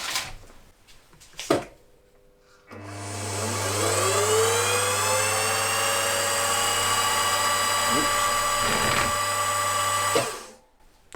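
A machine spindle runs up to a sustained high whine while centre drilling a model V-twin engine crankshaft, holding steady for several seconds before winding down, with brief clunks before it starts.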